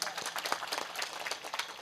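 An audience at a Marathi kirtan gives a quick, dense burst of hand clapping, with steady, busy applause throughout the short moment.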